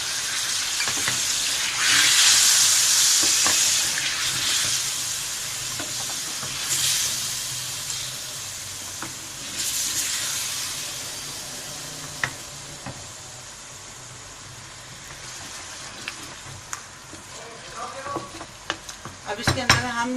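Achari gosht of mutton sizzling and frying in a pan as yogurt is added, with a steady loud hiss, bursts of stirring scrapes, and crackling pops growing busier toward the end.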